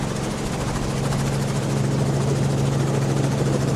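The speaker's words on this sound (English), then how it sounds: "we're going to pop up to the helicopter" A helicopter hovers above a mountain bike stage race, its rotor thumping in a steady low drone with constant engine whine, loud and close, with no talk.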